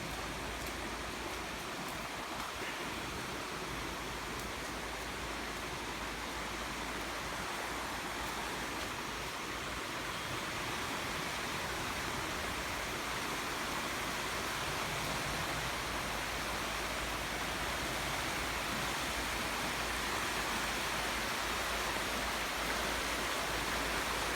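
A river rushing below a slippery rocky path at a natural campsite, a dense, constant broadband roar of flowing water, loud and unbroken throughout with no voices.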